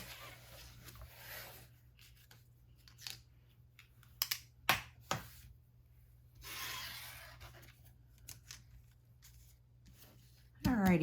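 Scissors cutting banners out of watercolor cardstock for a mixed media craft, soft intermittent snipping and paper rustling at close range, with a few sharper clicks and a low background hum.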